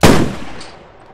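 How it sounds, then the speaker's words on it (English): A single loud, sharp sniper rifle shot goes off in the military video game Squad. It is followed by a quickly fading echo. "Shooting a guy through the trees."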